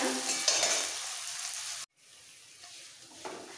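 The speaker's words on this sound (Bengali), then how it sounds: "এবারে একটু হাই ফ্লেমে রেখে পেঁয়াজটাকে ভাজতে হবে।" Onions fry in a pan over a high flame, a loud steady sizzle with stirring scrapes that cuts out briefly midway and then returns more quietly.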